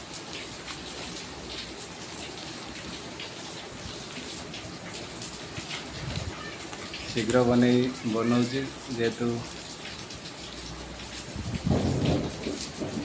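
Heavy rain pours steadily outside with rumbles of thunder, a continuous wash of rainfall throughout while a voice speaks briefly in the middle and again near the end.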